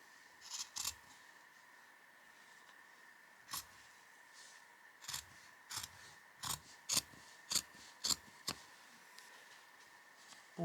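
Scissors snip through fabric to trim a seam allowance for a flat-felled seam, a series of about ten crisp close cuts, sparse at first and then coming in a quicker steady run, with no talking.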